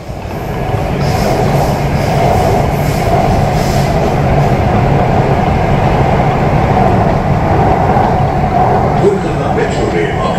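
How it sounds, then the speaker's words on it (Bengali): A Kolkata Metro train runs steadily, a loud continuous rumble of wheels and carriage throughout, heard from inside the car with faint voices in the background. "আমাদের মেট্রো এসে গেছে। এখন আমরা মেট্রোর ভেতরে বসে গেছি,"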